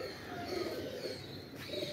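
Soft, low cooing from pigeons nearby, layered over a constant background hum.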